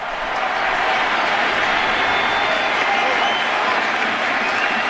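Baseball crowd at Yankee Stadium during an ALDS playoff game, a dense steady roar of thousands of fans holding loud and unbroken from start to finish.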